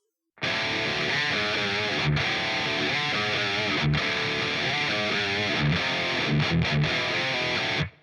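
Electric guitar with a dry, crunchy tone, played through a pedalboard straight to the desk with no amp, plays steady chords and riffs for several seconds, loud and close, with no chorus or wobble effect.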